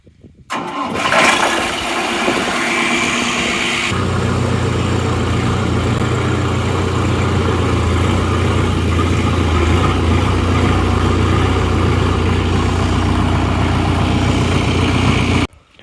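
A tractor engine cranks and catches with a roar after standing unused for a while, then settles into a loud, steady idle that runs on without pause until the end.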